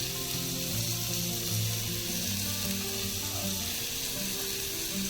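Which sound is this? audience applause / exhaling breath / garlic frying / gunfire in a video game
garlic frying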